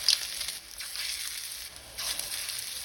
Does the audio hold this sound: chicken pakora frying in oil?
yes